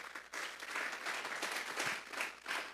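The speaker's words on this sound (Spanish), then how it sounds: "Vamos a darle un fuerte aplauso pues al Señor" A church congregation applauds steadily at a Sunday service, many hands clapping together in a sustained, fairly even wave that swells slightly near the end.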